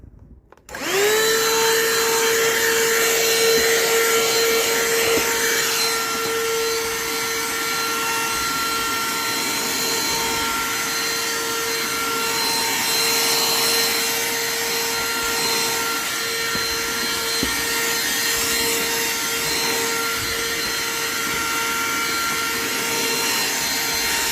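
A vacuum cleaner, just cleared of a nut and leaves clogging it, starts abruptly and runs loudly and steadily, with a constant high whine over a broad roaring hum.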